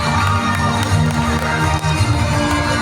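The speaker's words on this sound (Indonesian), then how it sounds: "Tepuk tangannya pada Ellen" Audience at a school class award ceremony applauding a prize winner, dense continuous clapping mixed with crowd noise and a few cheers, loud and close throughout.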